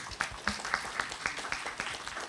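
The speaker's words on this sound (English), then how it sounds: "everybody give her a round of applause" Brief, sparse audience applause at an urban green spaces panel event in Malaysia, a handful of evenly spaced claps at a moderate distance.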